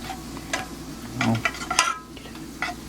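Butter melts on high heat in a pan for chicken Alfredo, crackling in a soft, close sizzle with a few scraping swirls and small pops.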